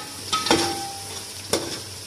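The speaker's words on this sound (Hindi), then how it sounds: "अब और इसे मैं भून लूंगी मसाले को" Salt, red chilli and turmeric roast in a pan for aloo methi, giving a low steady sizzle broken by two or three scraping stirring strokes, close by, with no voices.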